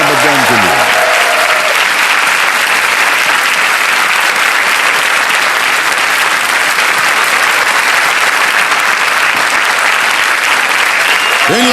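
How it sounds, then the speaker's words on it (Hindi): A large studio audience on a TV quiz show claps loudly and continuously, sustained applause filling the room throughout. "जोरदार तालियां बज जाएं उनके लिए"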